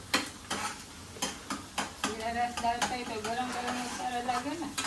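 Onion frying in a pan for a Gujarati home meal, with a soft sizzle under repeated sharp clinks and scrapes of a spoon stirring against the metal, while a person talks over it.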